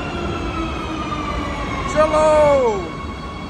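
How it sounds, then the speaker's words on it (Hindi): A metro train pulling into a station in Madrid, a steady rolling rumble joined by a rising then falling tonal brake squeal partway through, close and loud, with a brief spoken word from a bystander. "देखिए मेट्रो आ गई है भाई गुस्से में आ रही है बहुत मेट्रो"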